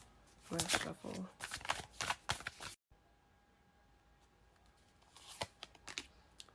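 Tarot cards being shuffled by hand, a burst of rapid riffling and flicking, then a short pause and a few softer card sounds near the end, close and clear.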